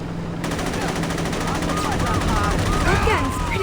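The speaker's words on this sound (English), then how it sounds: "That gun's pretty loud, isn't it?" A loud gun in the Saints Row video game fires in a sustained, rapid stream of rattling shots near the listener, with game chatter and other effects mixed in underneath.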